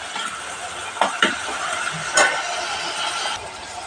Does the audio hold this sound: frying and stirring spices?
yes